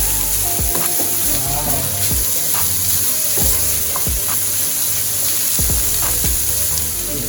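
Curry shrimp frying in a pan, Jamaican style, hisses with a steady loud sizzle and crackle while a spoon stirs and scrapes in short strokes; one brief exclamation is heard over it.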